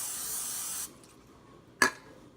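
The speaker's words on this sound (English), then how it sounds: "I'm gonna spray my pan here on my waffle maker." A short hiss of coconut oil cooking spray on a waffle maker sounds for under a second, followed by quiet and then a single sharp clink.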